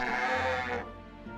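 A sheep on a farm in the game My Time At Portia gives a single short bleat, clear and moderately loud, then fades away into quiet.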